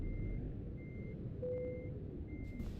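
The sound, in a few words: truck reversing beeps in a video game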